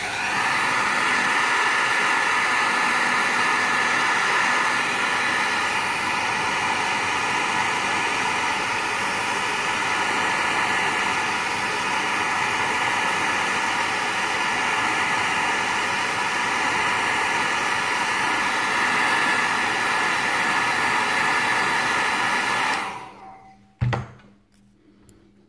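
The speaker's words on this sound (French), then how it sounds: "Allez, le sèche-cheveux." A hair dryer blows steadily as a loud, close broadband whoosh for about 23 seconds, then cuts off abruptly, leaving a brief thunk and near silence, during assembly of a Tamiya 1/24 Toyota Corolla WRC model kit.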